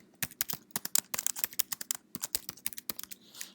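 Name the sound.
typing a title on a computer keyboard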